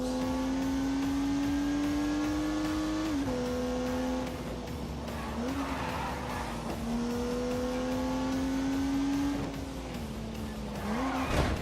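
A turbocharged 3-litre straight-six car engine in The Grand Tour Game drones loudly and steadily, its pitch dipping at gear changes, with brief tyre squeal as the car drives hard.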